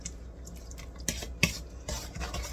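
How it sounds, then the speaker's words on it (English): Cherry nut bread ingredients are mixed in a bowl, heard as scattered scraping and clinking strokes of a utensil, quiet and close, with a few sharper knocks spaced irregularly between softer rustling. "Give it a mix"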